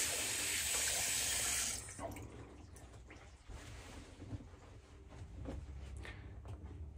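Running faucet water splashes loudly into a bathroom sink as shaved hairs are rinsed away, then cuts off, leaving faint handling noises and quiet dripping.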